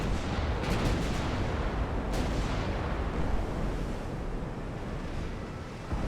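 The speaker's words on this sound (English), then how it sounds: "Start opening up with the 8-inch guns as well." Heavy naval gunfire from 8-inch battleship guns in the naval warfare game Ultimate Admiral: Dreadnoughts, a deep continuous rumble with a few sharp reports near the start and another around two seconds, over a rolling ocean-like roar.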